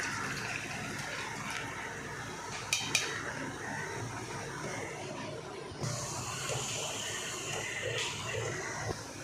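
Tulsi juice is poured into a pot for homemade soap, a steady wet gushing with a few light clinks of metal against the pot, fairly close and continuous.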